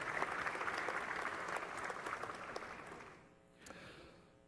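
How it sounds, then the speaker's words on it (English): A conference audience at Microsoft Ignite 2015 applauds, a broad wash of many hands clapping that holds steady for a few seconds, then fades away. "give them a big round of applause"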